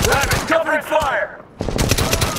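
Machine gun fire in the Medal of Honor video game, rapid rattling bursts with a brief gap in between, loud and close, while voices shout over it.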